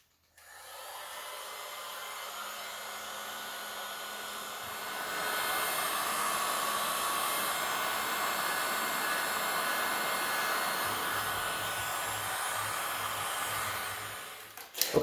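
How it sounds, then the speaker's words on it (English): A heat gun shrinks heat shrink tubing on a two-cylinder John Deere tractor wiring harness, making a steady, close blowing roar that grows louder about a third of the way in and holds until it cuts off at the end. "I used the heat gun on these two extensions"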